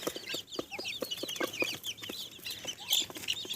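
Dwarf bantam chickens let out to graze give close, rapid, soft clucks in uneven bursts, several birds overlapping against a quiet outdoor background.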